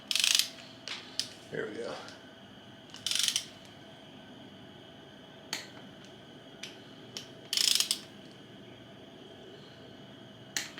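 Ratchet torque wrench tightening a bearing cap on an AMC 360 engine short block: several short bursts of rapid, close clicking separated by pauses, with a brief spoken remark.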